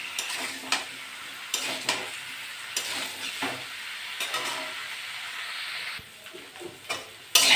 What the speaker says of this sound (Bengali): হলুদ দিয়ে দেবো, ইঁচড়টা ভালো করে ভেজে নেব।